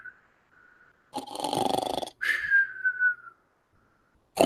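A voice imitates a male monkey snoring, with raspy inhaled snores alternating with whistling exhales in a slow, near, comic rhythm.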